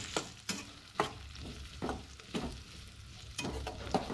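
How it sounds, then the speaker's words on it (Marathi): Onion frying and being stirred in a pan for a Goan mixed-vegetable stew: a faint steady sizzle broken by sharp spoon scrapes and taps roughly every half second, with no talk. "कांदो भाजून घेवंक जाय"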